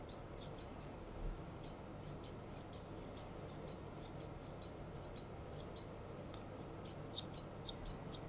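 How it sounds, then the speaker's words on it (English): Grooming scissors snip quickly and repeatedly close by, trimming hair on a dog's foot, in short crisp bursts of clicking cuts over a quiet background. "As we scissor the back of her foot"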